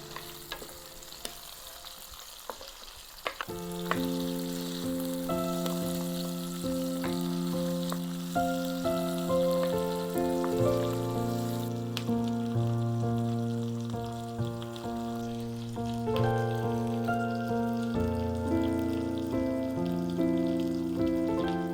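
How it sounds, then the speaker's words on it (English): Onions, garlic, cumin and mixed vegetables sizzle and crackle steadily in a hot pan, with soft gentle music playing underneath throughout. "We have been stir frying."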